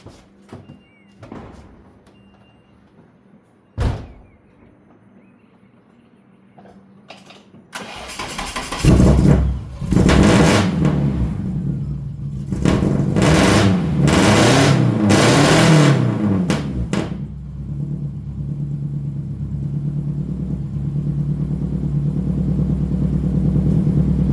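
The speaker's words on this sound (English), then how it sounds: "I'll give you guys a little test run with this car because, like I said, it's NA, but I love how it sounds." A naturally aspirated car engine starts with a sharp crank, then revs loudly through several hard bursts before settling into a steady, rumbling idle, heard up close with no voices.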